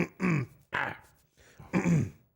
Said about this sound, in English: Let me try this one. Clear my throat.